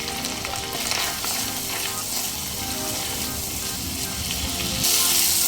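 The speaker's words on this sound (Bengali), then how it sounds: "মিডিয়াম ফ্লেমে নেড়ে চেড়ে কষিয়ে নিয়েছি" Spice masala for Bengali lau chingri, with turmeric, chilli and Kashmiri red chilli powder, fries on a medium flame and is stirred in the pan, giving a steady loud sizzle that brightens near the end, with no talk.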